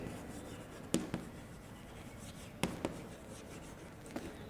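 Chalk or marker scratching across a classroom board in a few short bursts, sharp quiet strokes with pauses between them, no voices.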